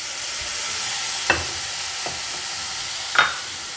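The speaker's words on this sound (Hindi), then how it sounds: "इसके बाद खोया डाल के थोड़ा सा खोया पहले हम भून लेंगे।" Khoya being roasted in a pan for sesame (til) laddoos, a soft steady sizzle with a few brief scraping stirs of a spatula, close by and without talk.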